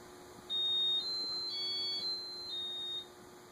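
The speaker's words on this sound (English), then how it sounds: "Beeped again." A thin electronic beep tone from a Casablanca ceiling fan's InteliTouch control in test mode sounds in a few short, steady segments, faint against a low background hum, with no talking.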